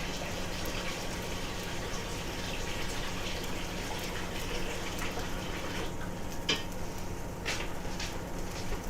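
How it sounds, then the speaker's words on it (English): Hot water pours steadily from a kitchen tap in a home cooking setting, a continuous broadband gush held at an even level throughout, with faint clinks near the end. "A little hot water."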